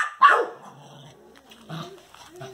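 A dog barks sharply once at close range, then gives softer yips and whimpering sounds while harassing cats indoors or in a yard.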